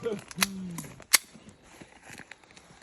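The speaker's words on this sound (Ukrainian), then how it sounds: "Три выстрела." Gunshots fired from a weapon during a test with an artillery-style aiming sight: sharp, loud cracks spaced well apart, with a brief voiced tone near the start.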